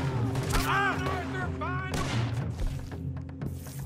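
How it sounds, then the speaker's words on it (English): Gunfire in Red Dead Redemption 2, a burst of several quick shots and thuds at moderate loudness, mixed with someone talking. "Who's shooting me?"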